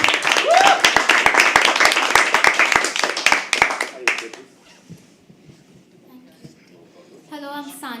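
A small audience at a poetry open mic claps briskly and steadily for about four seconds, then the applause fades into quiet room noise with a few distant voices.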